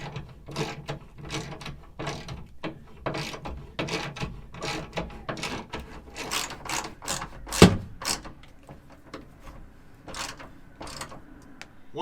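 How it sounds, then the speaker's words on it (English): A ratchet tightens two Torx bolts on a Toyota Tacoma bed stiffener, giving bursts of quick close clicking that repeat steadily with short pauses between strokes, alone with no talk. "we'll tighten up the 2 Torxes and we are good to go"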